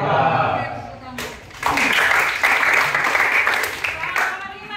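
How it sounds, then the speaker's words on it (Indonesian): A classroom of students claps together in a dense, steady burst that lasts about three seconds, breaking in after a moment of quieter sound and fading out at the end. "Oke, tepuk tangan."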